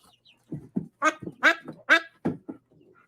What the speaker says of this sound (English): They're just learning to quack.